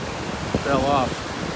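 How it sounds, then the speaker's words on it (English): Big ocean surf rolls onto a Gulf Coast beach in North Naples, Florida, a steady broadband wash with wind noise over the microphone and a brief tonal, voice-like sound midway. "This is a big surf for the Gulf Coast."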